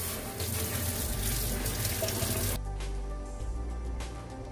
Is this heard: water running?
yes